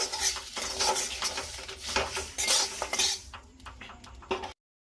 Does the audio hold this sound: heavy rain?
no